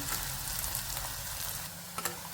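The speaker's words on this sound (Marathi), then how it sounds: "तेलामध्ये कांदा चांगला गुलाबी होईपर्यंत परतून घ्यायचा आहे" Finely chopped onion sautéing in hot oil with mustard seeds and cumin, a soft, even hiss of frying at moderate distance with a couple of light stirring clicks near the end.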